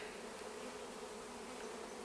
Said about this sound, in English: So we got a lot of bees left over